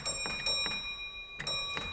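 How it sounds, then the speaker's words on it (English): A railway signal box block bell strikes the 3-1 code: three rapid dings, a pause, then one more, ringing clear and fairly close with a lingering tone. "you do that by repeating the 3-1 bell code"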